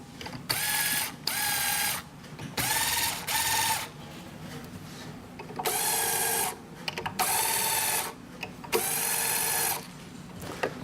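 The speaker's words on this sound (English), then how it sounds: "Hold my strings, I'm going to loosen them slowly." Guitar tuning pegs are turned at the headstock to slowly loosen the strings, giving repeated bursts of loud ratcheting, gear-like clicking, each lasting about a second, separated by brief pauses.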